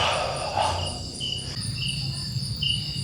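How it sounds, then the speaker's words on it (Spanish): Crickets chirp steadily in a quiet nighttime setting in Sumatra, their high trilling calls repeating close by with nothing else in the background. "solo los grillos cantar por la noche y paz"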